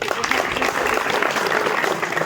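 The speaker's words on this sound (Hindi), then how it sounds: "भाई जोरदार तालियां इन बच्चों को।" Energetic clapping from an audience for schoolchildren at an inter college in Saharanpur, a brief, dense burst of applause that stays steady and fairly loud.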